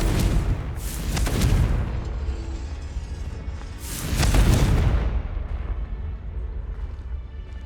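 Explosive Confringo spell bursts in Hogwarts Legacy, two loud booming blasts about three seconds apart, each with a crackling rumbling tail, over a steady game background.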